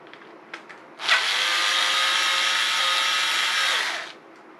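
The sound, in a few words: electric screwdriver removing a bolt from a fishing rod rest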